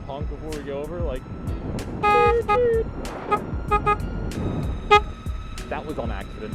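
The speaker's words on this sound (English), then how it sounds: "We have to honk before we go over" A homemade car horn blaster running on 12 volts honks in several short, loud toots of varying length, brassy and close, over background chatter and handling noise.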